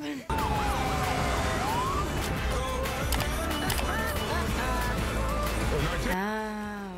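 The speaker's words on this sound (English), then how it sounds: "did that really require lights and sirens?" A wailing emergency vehicle siren from the TV drama Station 19, loud and continuous, with sweeping tones over dense layered sound for about six seconds before cutting off.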